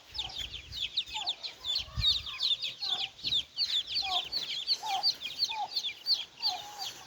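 A flock of chickens, including Brahma chicks, clucking and chirping continuously nearby, with overlapping high peeps and lower clucks in an irregular busy rhythm.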